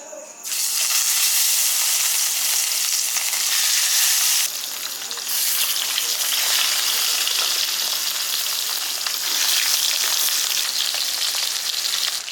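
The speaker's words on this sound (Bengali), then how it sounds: "আমাদের মাছ ভাজা হচ্ছে" Rohu fish frying in hot soybean oil, a loud, even close sizzle and hiss that fills the whole stretch with a slight dip midway, no speech.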